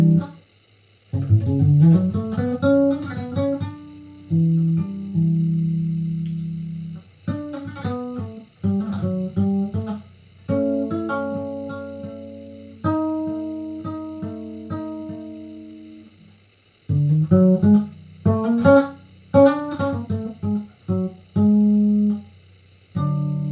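Bass guitar played solo, a melodic Raag Shree phrase in an ethno-jazz fusion style, with plucked notes in separate bursts and short pauses, close and clean with no talking.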